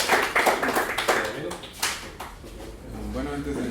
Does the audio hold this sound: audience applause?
yes